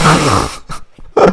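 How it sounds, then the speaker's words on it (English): A dog in the animated film The Plague Dogs gives a loud, close snarling, breathy growl, then after short pauses two brief further bursts of growling. "That's a dog, all right."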